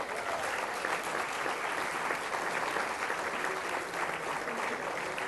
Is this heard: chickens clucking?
no